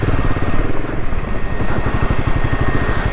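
Royal Enfield Himalayan 450 motorcycle engine thumping steadily while riding a mountain road, a loud, close, pulsing single-cylinder beat with no talk over it.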